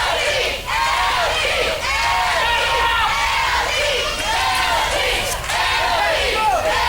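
A loud crowd of fans at an athletics event cheers and shouts continuously, with whoops and raised voices layered into a dense, sustained roar.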